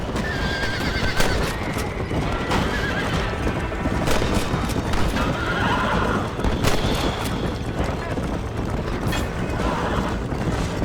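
Horses in the Red Dead Redemption video game whinny loudly over repeated clip-clopping hooves, with a busy game soundscape of rumbles and clatter running underneath the whole time.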